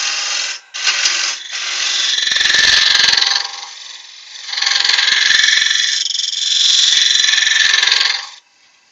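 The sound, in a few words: wood turning on a lathe with a spindle gouge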